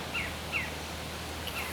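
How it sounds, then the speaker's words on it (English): Birds chirp outdoors in a quiet, peaceful spot near cattails, a few short high calls standing out faintly over a steady soft background hum. "You can hear the birds."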